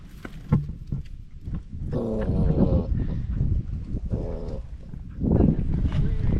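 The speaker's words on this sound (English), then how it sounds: "She's still growling." An Akbash livestock guardian dog growls low and rumbling in sustained stretches from under a car, with brief pauses between, fairly close.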